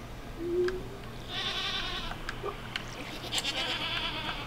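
Goats bleat in the farming video game Stardew Valley, several short nasal calls overlapping in quick succession amid other farm animal noises, with a low background hum underneath.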